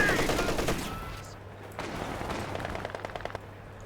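Machine gun fire rattles in rapid bursts during a Company of Heroes 2 battle, with a heavy opening volley followed by quicker, sharper rounds of game gunfire.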